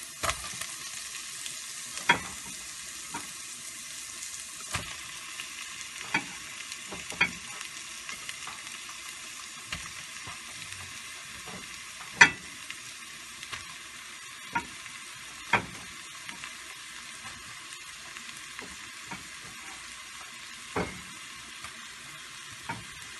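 Mashed potatoes are stirred together with ginger, garlic and small pieces of shrimp in a frying pan, giving a low continuous sizzle punctuated by occasional sharp scrapes and taps of the utensil, with no voices.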